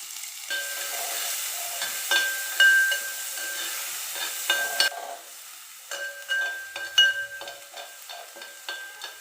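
Steady sizzling and crackling from onion and green chili frying in a hot pan, with occasional stirring and scraping sounds, close and fairly loud.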